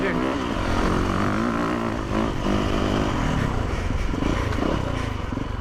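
A 2017 Yamaha YZ450FX motorcycle engine runs loud and steady while being ridden, a continuous rough drone with some varying pitch throughout.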